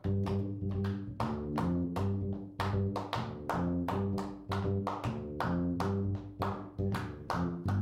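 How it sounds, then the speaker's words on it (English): An audience claps along to the jazz standard Take Five, accenting a steady five-beat pattern in a repeating rhythm, loud and close with a piano-like tonal backing and no talk. "Clap take 5. 1, 2, 3, 4, 5."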